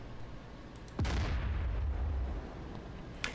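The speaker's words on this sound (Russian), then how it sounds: "Давайте пока выстрелим по складу первому" A tank cannon in DCS Combined Arms fires at a warehouse about 15 km away. One loud, close blast rolls into a long rumbling tail, and a faint pop follows near the end.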